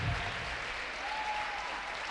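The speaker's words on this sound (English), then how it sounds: "Now you are clapping." Steady applause from an audience at a school science-versus-art debate fills the hall, a dense, even clatter of many hands clapping at moderate volume with no pause.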